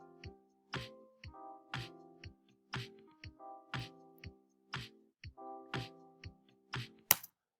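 Playback of a recorded two-bar melody phrase on a plucked, keyed instrument, a string of short separate notes with attacks in an even rhythm, close and clean over silence, ending in a sharp click.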